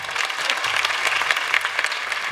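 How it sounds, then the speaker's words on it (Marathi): Audience applause for a female kirtan performer at a devotional kirtan gathering, a dense, steady wash of many hands clapping together throughout, loud and sustained with no voice on top. "ताईंसाठी सगळ्यांनी जोरदार टाळ्या वाजवा."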